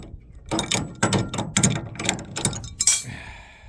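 Ratcheting wrench tightening a bolt on a 1979 Ford Pinto, a quick series of close, sharp metallic clicks in short bursts about half a second apart, with no speech.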